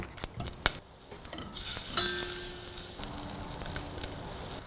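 Thirty grams of butter dropped into hot cooking oil in a pan for onion soup: a few clinks of utensils first, then a sudden sizzle that settles into a steady, moderate frying hiss.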